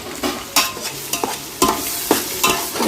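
Chicken being stirred and cooked in a pan: repeated scraping stir strokes roughly every half second over a steady sizzle, close and loud, with no speech.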